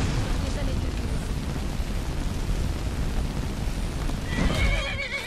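A horse whinnies loudly in Skyrim while heavy hoof thuds and a rumbling game soundscape roll underneath, ending with a sharper burst near the end.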